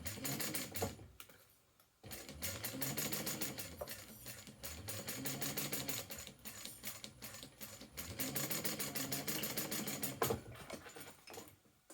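A sewing machine runs in bursts as it stitches fabric with taped basting, a fast whirring rattle that stops briefly, restarts, and continues near and fairly quiet.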